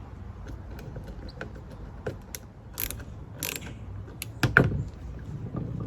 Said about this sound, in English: With our flat head, we're just going to start to tighten that.